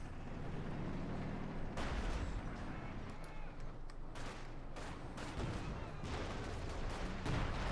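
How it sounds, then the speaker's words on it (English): Howitzer artillery in the World War II strategy game Company of Heroes 2, a series of heavy booming blasts and rumbling impacts spread across the stretch, loud and dense, with battle noise filling the gaps. "Howitzer is now already virtually free. Gets ready to fire again."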